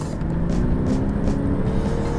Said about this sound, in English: The sound of that engine is just absolutely killer.